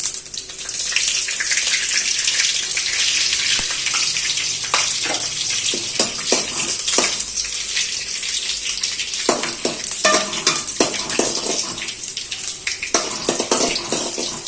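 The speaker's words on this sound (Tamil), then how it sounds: "எண்ணெய் காஞ்சோன்னா கடுகு போட்டு அது பொரிஞ்ச வரையில கருவேப்பிலை, மிளகா, பூண்டு ஒவ்வொன்னா ஒவ்வொரு பொருளா வதக்கணும்." Mustard seeds, curry leaves, chili and garlic sizzle and crackle in hot oil in a pan for a Vendakkai fry. The frying hiss is steady and close, with scattered pops and scraping stirs throughout.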